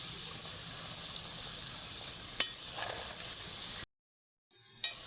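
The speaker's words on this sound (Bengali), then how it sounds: "ভাজার জন্য একটু সময় দিতে হবে এগুলো দেওয়ার পর কিন্তু উনুনের আঁশটা একদমই কমিয়ে নিতে হবে" Nimki dough pieces deep-fry in oil over a low flame with an even, bubbling sizzle and a few stirring knocks, then drop into brief silence before the frying resumes faintly.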